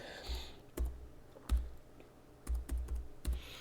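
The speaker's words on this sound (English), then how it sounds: "I'm trying to figure out how to type around my microphone." Keys on a computer keyboard clack in short, uneven bursts of close, fairly quiet taps right by the microphone, with low thumps from the desk.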